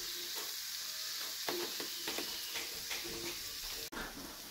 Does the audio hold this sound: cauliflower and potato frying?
yes